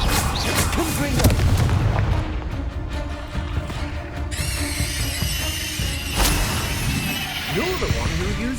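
Confringo blasting-curse explosions from the Hogwarts Legacy video game: a series of loud booming blasts with crackling bursts, one sharp impact near the middle, layered with game effects and a voice speaking over them.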